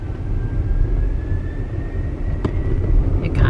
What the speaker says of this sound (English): It kind of whirs up and whirs back down.